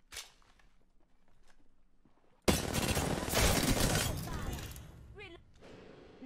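Gunfire erupts in the Apex Legends video game, a loud sustained burst of shots and impacts after a quieter stretch, with squad voice lines and chatter nearby.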